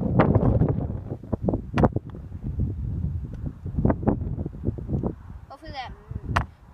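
Gusty wind buffets the microphone outdoors on a residential driveway, a steady rough roar with louder surges, while people talk intermittently over it.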